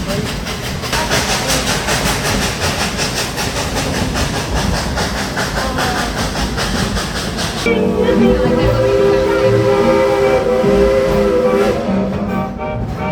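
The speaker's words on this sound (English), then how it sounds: "Great ride on the train." A train on the Rebel Railroad ride at Dollywood in Tennessee rolls along with steady clatter and hiss, then a sustained whistle sounds strongly through the later half, all fairly loud and close.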